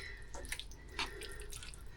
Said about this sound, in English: I'm just going to mix a bit of water in.